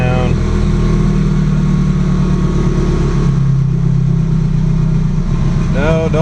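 A Subaru Impreza GC8 idles through a cold start during tuning, a loud steady engine drone with a faint shift in pitch as the idle settles, while a voice talks over it.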